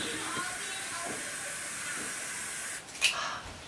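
A steady, close hiss of continuous spray from a spray bottle runs for a few seconds, then cuts off with a faint click.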